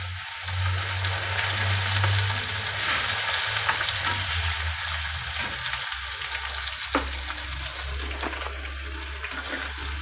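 Ground spices fry in a pan of hot oil for a chara pona fish curry, giving a continuous close sizzle with occasional stirring scrapes and pops, and no talk.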